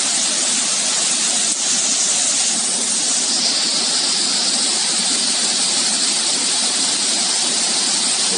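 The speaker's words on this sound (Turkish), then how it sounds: "Bakın yukarılardan gelen küçük dereler, yukarıda birleşen, yine bu dereye akan dereler." Small mountain streams converging and pouring into a creek on a highland plateau, a loud, continuous rushing of water close by, steady with no pauses.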